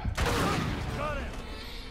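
Sniper gunfire in the video game Uncharted 3, a burst of sharp booming shots fired under a stage, fairly loud and close, with the booming echo ringing on and tailing off.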